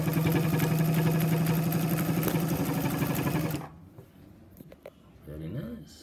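A vintage 1950s Pfaff 130 home sewing machine runs a zigzag stitch in a steady, fast mechanical whirr for several seconds, then stops abruptly, leaving faint handling noises and a brief voice.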